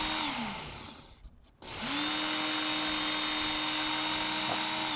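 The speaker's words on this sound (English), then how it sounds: "this is a kitchen knife. I'm going to have it set at 20 degrees. I've got a coarse belt here" Kitchen knife pulled through a coarse belt sharpener set at 20 degrees: a loud, steady high whir of the running belt, briefly dropping away mid-clip, then the grinding hiss rising again as the blade is drawn across.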